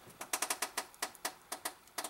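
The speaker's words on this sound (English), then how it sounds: "that's the sound of my workbench being moved because the thing just won't pull" A heavy workbench creaks and shifts in a rapid series of sharp, rhythmic knocks and clicks, about a dozen in two seconds, as a part clamped in a vise grip is pulled hard. The knocks are close and fairly quiet, with no talk.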